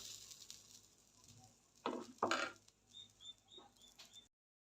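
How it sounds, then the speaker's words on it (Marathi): Rava uttapam batter on an oiled pan gives two short, faint bursts of sizzling amid a quiet kitchen, with a few soft scrapes and high chirps, then near silence. "आता एका बाजूने हे चांगलं भाजलं की उलटून घ्यायचं आहे"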